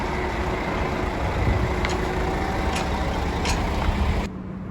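A truck with a big trailer, an empty biomass wagon, rumbles past on a farm yard in a steady broad roar with a few sharp clanks, then the noise cuts off abruptly near the end.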